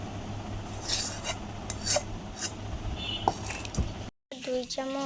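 A spoon scrapes and stirs semolina in a pan over low heat, with steady rough scraping strokes close up, then a short break before a brief voiced tone at the end.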